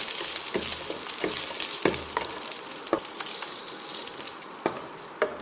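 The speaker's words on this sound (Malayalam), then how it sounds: "കാഷ്യൂ നട്ടും കിസ്മിസും ഒന്ന് റോസ്റ്റ് ചെയ്തെടുക്കാം." Cashews and raisins roast in a hot pan, a continuous bright sizzle broken by regular scraping strokes and light knocks of the spoon, close and fairly loud.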